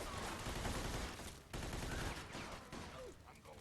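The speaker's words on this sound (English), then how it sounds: "I sometimes pop up to shoot and I've got no bullets" Video game gunfire crackles in rapid bursts throughout, a dense, fairly quiet volley of shots with short gaps between them.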